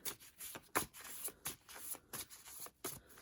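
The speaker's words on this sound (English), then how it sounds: "let me shuffle on screen" Tarot cards are shuffled close up, with a series of quick riffling, slapping bursts in an irregular rhythm and brief pauses between them, no talk.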